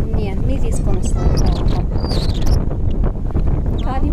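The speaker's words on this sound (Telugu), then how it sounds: "గాలి విపరీతంగా గాలి వస్తుంది" Strong wind gusts buffet the microphone in an open village farm field, a continuous loud rumbling roar across the whole stretch, with voices faintly audible underneath.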